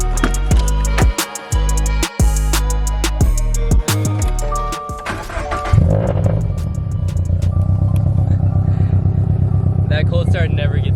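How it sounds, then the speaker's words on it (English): Subaru BRZ engine cold-starting and settling into a loud, steady high idle, with a sharp burst at the catch and a sustained, even drone afterward. "That cold start never gets old."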